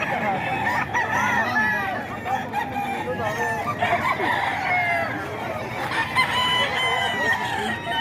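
A large Thompson White rooster crows among a yard full of clucking fowl, with continuous overlapping calls close by and a voice talking faintly beneath the flock.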